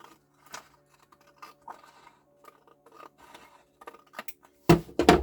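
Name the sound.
scissors cutting rows off a journal page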